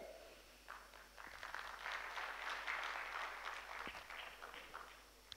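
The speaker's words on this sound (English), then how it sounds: "That's why it's good for you to clap" An audience at a higher education conference breaks into clapping after a minister's speech, rising from a scattered start to a soft, steady wash of applause that stays fairly distant and faint.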